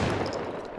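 An upgraded gun in Stalker Gamma fires a short, loud burst of shots with heavy recoil, booming and then trailing off within a second.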